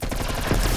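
A video game ray gun fires in a rapid string of pulsing, buzzy blasts that stay loud and steady throughout, with no talk over them.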